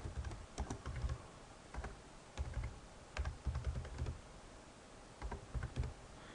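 Someone types an address and phone number on a computer keyboard in quick, irregular clusters of close, crisp key clicks, with brief pauses between bursts.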